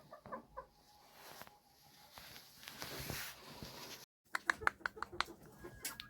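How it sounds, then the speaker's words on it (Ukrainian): Hens cluck and murmur close by, with roosters among them, and some shuffling footsteps; sharper clucks come in quick bursts toward the end. "мої красуні півники"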